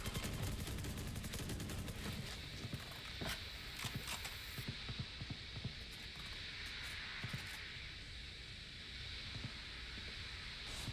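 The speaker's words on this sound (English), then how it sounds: "They're just firing blindly into the pit." Gunfire in the tactical shooter Valorant sprays blindly into Viper's Pit during a college esports match: rapid, crackling bursts and sharp single shots repeat throughout, fairly close, over a low windy background.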